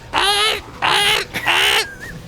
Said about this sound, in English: There's a magpie.